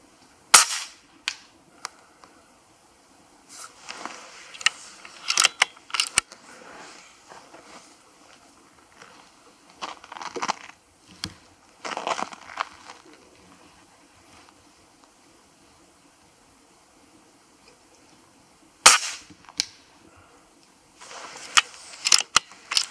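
Sharp, snappy PCP air rifle shots fired one at a time with gaps between, several in succession, over quiet outdoor background with a tailwind of about 5 metres per second.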